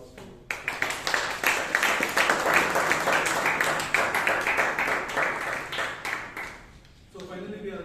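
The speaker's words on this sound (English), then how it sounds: "Let us give another big round of applause to you." A Toastmasters club meeting audience in Bangalore breaks into a big round of applause, dense sustained clapping from many hands that swells for several seconds then fades, followed by a short burst of talk.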